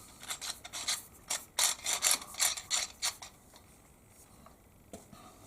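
A stainless steel combined pepper mill and salt shaker, the Prokraft Shmill, is adjusted and turned, giving quick rhythmic gritty grinding bursts close up that fade into lighter clicks and rubs near the end.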